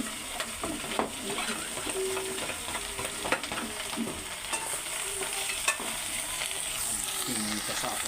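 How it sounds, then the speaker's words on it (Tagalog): Beef sizzles steadily in a hot pan while being stirred, a continuous bright frying hiss with occasional scraping taps of the utensil against the pan. "ilagay na natin yung karne po natin, baka"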